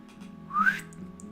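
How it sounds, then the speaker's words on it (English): A person attempts a whistle that comes out weak and breathy, a single short rising tone lasting under a second, close and alone with no talking. "that was a terrible whistle"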